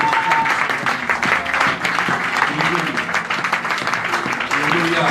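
Church congregation at a Sunday service applauds and cheers loudly, sustained clapping mixed with shouting voices and background music throughout.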